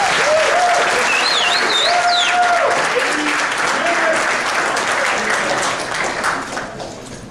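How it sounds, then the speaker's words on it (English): Sustained audience applause at a military unit gathering, steady and dense clapping that fades slightly toward the end, with a voice briefly audible over it. "Let's give them a warm round of applause."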